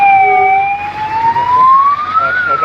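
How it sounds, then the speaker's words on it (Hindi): An ambulance siren wails in heavy road traffic, a loud, close, rising and falling tone sweeping over engine rumble as the vehicle pushes through. "ये देखो एम्बुलेंस कैसे पार करके आया, बहुत मुश्किल से आया वो।"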